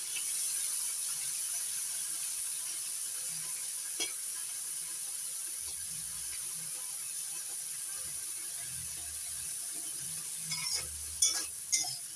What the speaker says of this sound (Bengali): নাড়াচাড়া করে চিংড়ি মাছগুলো ভেজে নেব হালকা করে ভাজবো বেশি বেশি ভাজবো না